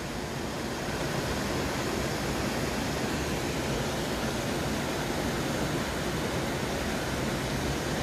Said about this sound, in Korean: 이제 첫 번째 폭포 만났습니다